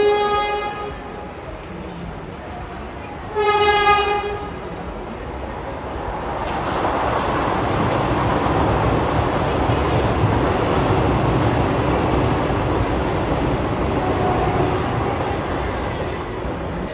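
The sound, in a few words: Chennai-Coimbatore Vande Bharat express train passing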